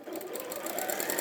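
A sewing machine running continuously while top stitching, a steady fast mechanical whir with rapid needle clatter, close and even in level throughout.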